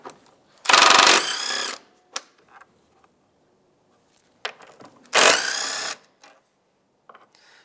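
Two strong bursts of a power tool zipping out the 10 mm bolts that hold the fresh-air intake duct on a Mazda CX-9, each lasting about a second, with scattered light clicks and handling sounds between them.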